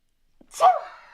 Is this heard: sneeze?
yes